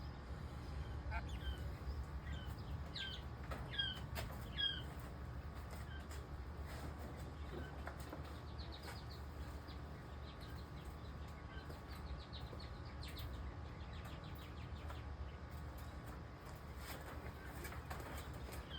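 Two-week-old chicks chirp faintly in their new home, with scattered high peeps early on and then sparser ones over a steady low background rumble.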